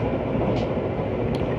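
A Brightline train rumbles along the rails with a steady, dense roar, heard from inside, with faint higher clicks now and then.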